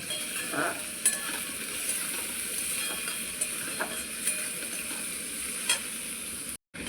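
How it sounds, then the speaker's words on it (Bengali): Soaked lentils frying and being stirred in a pan, a soft steady sizzle with occasional light scraping knocks from the spoon, fairly quiet and alone. "ভিজে রাখা ডাল দিয়ে দিলাম এবার ডালগুলোকে কিছুক্ষণ ভালোভাবে একটু নেড়ে চেড়ে নেব"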